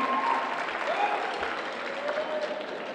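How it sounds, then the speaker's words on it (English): A round of applause rises in a high school holiday assembly, many hands clapping in a broad, continuous patter that carries on without a break, with faint crowd murmur underneath. "Round of applause for Trump."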